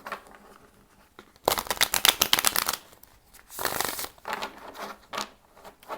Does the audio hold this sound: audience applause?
no